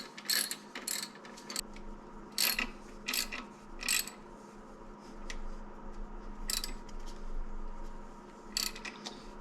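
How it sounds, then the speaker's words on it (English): A wrench ratchets in short bursts while tightening the timing belt tensioner pulley on a Nissan Pathfinder engine, crisp clicking runs separated by pauses. "let's tighten the tensioner up"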